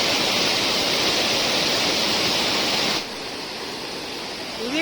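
Heavy water flow at a waterfall on Kanjar Cheruvu near Woddera Colony, Nizamabad, a loud, dense, steady rush that drops suddenly to a lower level partway through, no talk.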